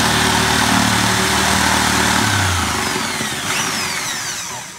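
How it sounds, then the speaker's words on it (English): Electric jigsaw cutting a round shape in a car tire, a steady loud motor whine with shifting pitch as the blade works through the rubber, continuous and close throughout. "So I have to create a small hole so that the edge of the machine, which is the jigsaw, will enter. Then I'll be able to cut that round."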